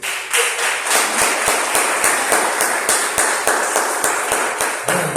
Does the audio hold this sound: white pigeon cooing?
no